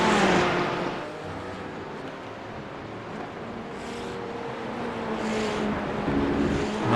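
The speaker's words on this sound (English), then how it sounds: "Another set of McLarens here." McLaren race cars pass on a circuit at VIR, a broad engine roar swelling and fading at a moderate distance, with a second car's sound rising toward the end.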